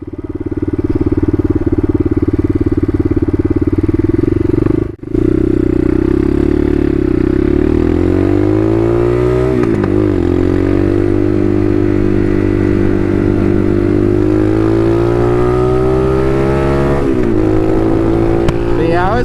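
A Bashan Motomax 250 Supermoto street-legal dirt bike ridden at night, its loud engine droning close throughout, briefly cutting out, then pitching up and down through gear changes.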